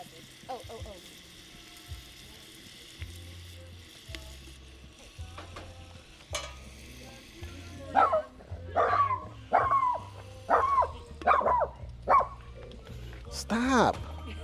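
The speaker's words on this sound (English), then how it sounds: "That's my dog." A pet dog barks in a home kitchen during cooking, a string of about six sharp, loud barks near the end after quieter household clatter and frying sounds, with a person talking at times.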